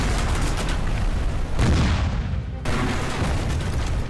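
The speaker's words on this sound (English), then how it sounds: "Fire the rockets!" Cartoon rockets are fired in a sea battle, a dense run of loud booming blasts and rumbling explosions layered over one another with no pause.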